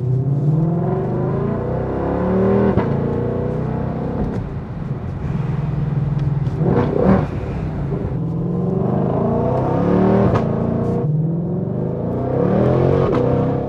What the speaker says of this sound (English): I'm gonna show you guys what it's like driving this car at nighttime.